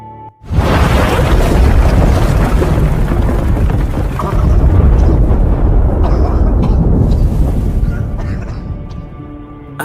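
A landmine blast in a war film setting kicks off with a sudden loud onset, then a sustained heavy rumble of debris and roaring aftermath that holds for several seconds before tapering slightly.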